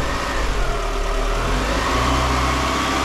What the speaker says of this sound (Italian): Accendiamo la macchina e la portiamo a 2000 giri.